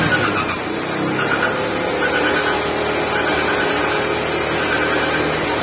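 A Honda XR150 motorcycle engine runs with the clutch lever pulled in, giving a steady, close mid-pitched hum with a faint whine and no revving, alone throughout.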